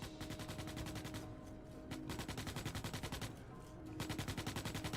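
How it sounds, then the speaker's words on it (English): Rapid automatic gunfire rattles continuously in the Starship Troopers Extermination game, with tight, evenly spaced bursts that pause briefly and then resume over dense background noise. "This guy's shooting."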